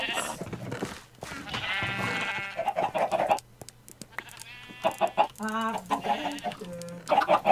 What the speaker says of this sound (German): Einfach durch den Hühnerstall gehen und Hühner mit Eiern bewerfen.